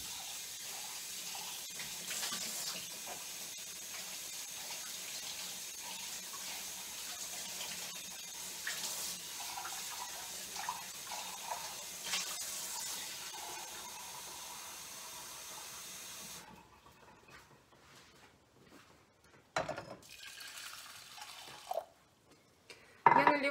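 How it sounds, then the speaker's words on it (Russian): A steady stream of water pours and splashes into a pot for about fifteen seconds, then stops, followed by a few quiet clinks and knocks nearby. "Наливаю воды и молока."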